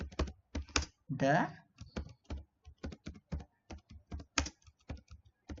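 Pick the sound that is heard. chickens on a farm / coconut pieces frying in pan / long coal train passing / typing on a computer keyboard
typing on a computer keyboard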